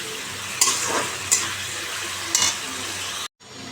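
Spice paste frying in hot oil in a home kitchen, with pomfret fish to follow, gives a steady close sizzle broken by three short stirring scrapes, then cuts to near silence at the end.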